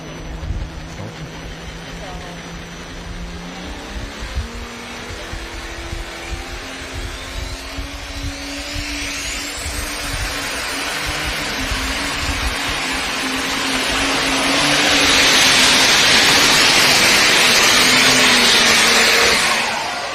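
Super stock diesel tractor engine at a tractor pull roaring steadily and loudly, swelling to a heavy peak near the end, with an announcer's voice over the noise.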